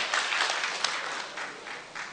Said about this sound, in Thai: ขอเสียงปรบมือให้ คุณสุจินรุ่งสว่าง